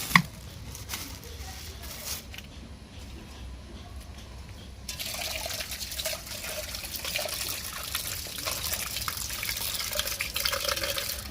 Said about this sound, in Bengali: মাংসটা আমার ধোয়া হয়ে গেছে